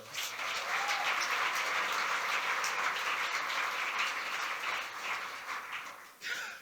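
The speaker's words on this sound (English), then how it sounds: "Please give our City Council one more round of applause." An audience at a New Rochelle State of the City address gives the City Council a sustained round of applause, dense and even clapping that tapers off near the end.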